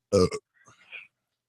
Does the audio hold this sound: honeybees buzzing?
no